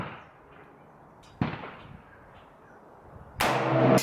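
An AR-15 rifle fires a single .223 Rem 55-grain round outdoors, one sharp loud report near the end, preceded by an earlier crack and quiet background.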